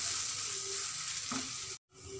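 Green chillies, turmeric, red chilli powder and garam masala stirred together in a hot pan for paneer bhurji, a steady close sizzle of frying with a few scraping stirs and a brief break near the end.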